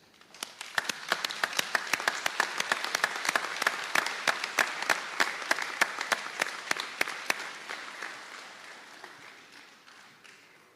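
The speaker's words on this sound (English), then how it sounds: "will the graduates please stand and give your families and friends and significant others a round of applause" Graduates at a practical nursing graduation ceremony applaud their families and friends, a long, sustained round of clapping with sharp individual claps standing out, building quickly and then fading gradually at the end.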